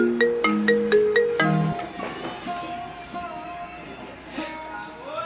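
A phone ringtone in a Maithili comedy skit plays a quick run of bright electronic notes at the start, then continues more softly under background noise and faint voices.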